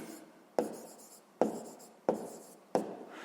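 Handwriting with a pen on paper while listing divisors of 30, five distinct scratchy strokes at roughly even intervals, each sharp onset fading into a short scrape, close and fairly quiet.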